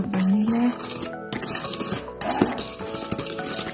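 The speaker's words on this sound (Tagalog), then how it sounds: "Then mix again yung vanilla" Vanilla is mixed into cupcake batter in a bowl, with a utensil clinking and scraping against the bowl in close, fairly loud strokes, broken by brief pauses and no voices.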